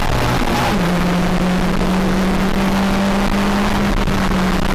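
Stock hatchback race cars in a 750 Motor Club championship round at Anglesey circuit, a steady engine drone holding one pitch for several seconds with a rough, continuous roar of nearby racing traffic.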